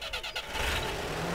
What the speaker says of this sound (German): Ich schmeiß jetzt mal eben den Motor an.